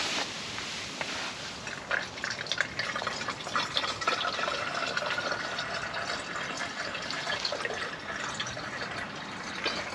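Water poured out of a bottle outdoors on a winter carp-fishing bank at Todber Manor, a steady close splashing trickle running the whole time with small drips and gurgles, no talking.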